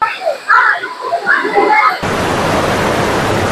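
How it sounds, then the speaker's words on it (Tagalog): Rushing water from Balagbag Falls in Real, Quezon Province sets in as a dense, steady roar after a brief stretch of voices, loud and close. "Balagbag Falls is located here in Real, Quezon Province."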